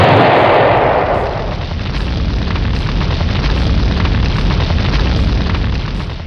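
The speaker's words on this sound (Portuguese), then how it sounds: "Depois ele joga uma granada e vai embora deixando o galpão em chamas." A grenade explosion setting a warehouse ablaze in a Punisher story, a loud booming blast at the start giving way to a sustained roaring rumble of fire and debris that fades slightly toward the end.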